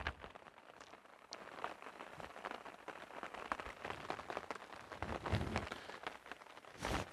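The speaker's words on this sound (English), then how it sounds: "It is raining." Rain falling outdoors and fairly heavy, a faint, dense patter of drops on surfaces with scattered sharper taps throughout.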